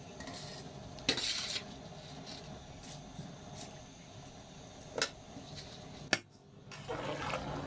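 Rice being mixed in a pot of boiling water for Punjabi-style aloo matar pulao: a spoon scrapes and clinks against the pot, with a few sharp knocks over a steady background hiss.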